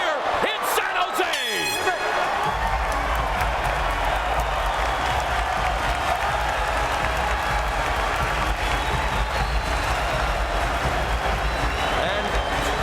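A packed arena crowd at a Strikeforce MMA event in San Jose roars and cheers loudly and continuously, with whoops and clapping rising over a steady wash of noise, after a brief moment of commentary at the start.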